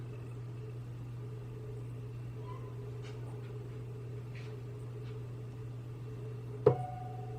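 A Cricut Explorer 2 cutting machine gives a single sharp pop near the end, followed by a brief ringing tone, over a steady low motor hum.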